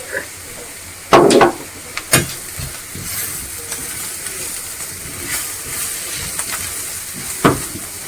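A spoon stirs coconut pumpkin soup with turmeric in a pot over a gentle background hiss and sizzle, with a few sharp scrapes and clinks of the utensil against the pot's side.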